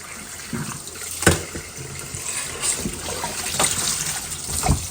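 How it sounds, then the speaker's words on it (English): Cool tap water runs and trickles over a whole raw turkey in a sink, a steady close rush broken by irregular splashes. "The cool water will pretty much melt that and take care of that."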